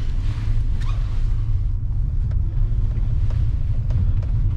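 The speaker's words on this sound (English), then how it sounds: "Okay, V8, let's go driving." A BMW E65 745i V8 with a valve seal oil-leak problem drives along, giving a deep, steady low rumble with road and wind noise, close and continuous, with no clear speech.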